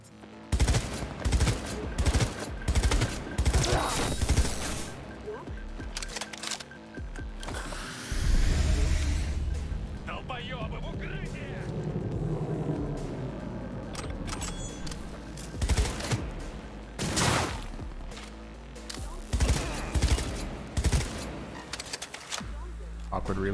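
Gunfire in the video game Cyberpunk 2077 crackles in repeated bursts and rapid volleys amid explosions and action effects, while a player talks over much of it.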